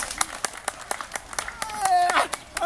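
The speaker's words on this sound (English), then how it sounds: "that's clapping to get the thing up here." Sharp hand claps repeated at a quick steady rhythm to call a large caiman closer, near and loud, with a voice calling out over the later claps.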